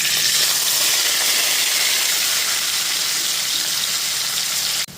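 Onion, ginger, garlic and green chili paste hits hot oil in a pan with a loud, steady sizzle that holds throughout, then cuts off sharply near the end; no talking.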